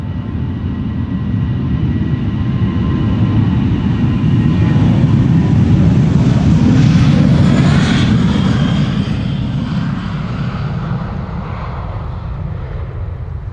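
KLM Boeing 737 jet departing Amsterdam Schiphol, a loud, broad engine roar that swells to a peak as it climbs out overhead and then slowly fades, heard alone without talk.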